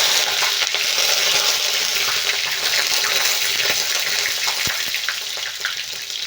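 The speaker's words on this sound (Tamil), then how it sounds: "கருவேப்பிலையை தண்ணியில் போட்டு பழக்கி போட்டதுனால நல்லா சட்டி சூடாக இருக்கிறதுனால ஆயிடுச்சு" Water-soaked curry leaves dropped into a hot pan sizzle and crackle loudly, a dense, continuous hiss with scattered pops that eases slightly toward the end.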